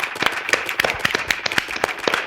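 A few people clap in quick irregular bursts, sharp close hand claps forming a small, loose round of applause.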